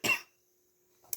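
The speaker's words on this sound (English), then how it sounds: "And I'm fixing to have to cough again." A single sharp cough right at the start, then quiet, with a brief breathy throat sound just before the end.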